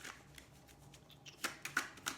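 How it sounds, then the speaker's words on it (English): Tarot cards being shuffled and pulled from the deck: a quiet run of soft papery riffles and flicks, ending in several crisp card snaps close to the mic, with no talk. "I'm just gonna pull 2 more cards."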